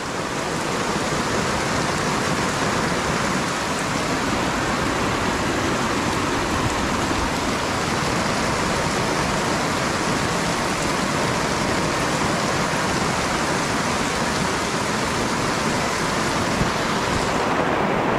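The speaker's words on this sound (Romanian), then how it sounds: "Atât de puternic, o să mai plouă în jur de vreo 20 de minute." Heavy rain pours down in a mountain storm, a dense, loud, unbroken roar of water drumming on surfaces with running water mixed in, constant throughout with no voices.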